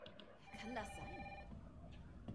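A telephone rings in the Resident Evil 3 Remake, a distant, faint electronic ring with sustained tonal bursts heard under someone speaking.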